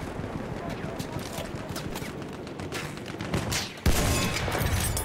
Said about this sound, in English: Where is that machine gun at?